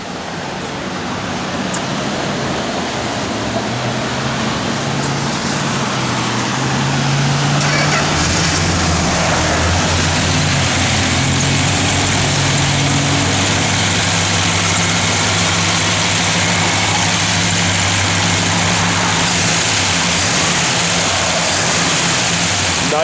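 A 1963 Plymouth Sport Fury convertible runs at a loud, steady idle, a low rumbling engine drone that firms up slightly after several seconds and then holds evenly without a break.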